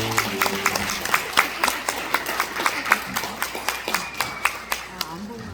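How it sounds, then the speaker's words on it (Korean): The congregation at a church wedding at Oryun Church claps after the couple's vows. Sharp individual claps arrive in a loose, fairly even rhythm over murmuring voices and a busy room background. "박수 하겠어요."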